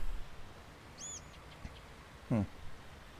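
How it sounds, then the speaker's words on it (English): A bird takes flight in Farming Simulator 19, giving a brief, faint high chirp followed by a short, soft flutter-like burst against a quiet ambient background. "Oh, look at the bird flying away."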